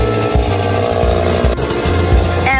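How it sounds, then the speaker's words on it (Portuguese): A brush cutter runs steadily nearby at a building site on a rural plot, its small two-stroke engine giving a loud, buzzing drone with a pulsing rhythm that holds throughout. "A Karine é a roçadeira."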